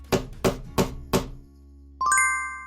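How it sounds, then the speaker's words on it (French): A hammer knocks four times in an even, steady rhythm, each blow sharp, loud and close, followed by a pause and then a bright ringing chime. "Le marteau."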